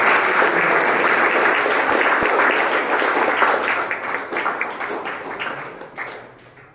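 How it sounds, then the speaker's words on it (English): Audience applause at a youth festival: a dense, loud round of clapping that holds steady, then thins out and tapers off toward the end. "let us have a loud big round of applause"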